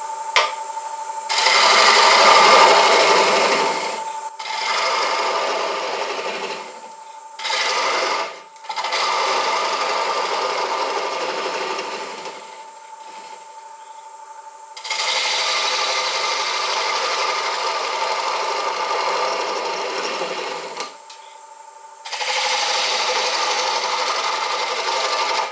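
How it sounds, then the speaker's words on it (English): Wood lathe hollowing a spalted beech bowl, a steady close whirring hum broken by scraping runs of several seconds and brief pauses as the tool engages and lifts, with no talking. "It's quite slow, the lathe, so the hollowing process is going to be quite difficult."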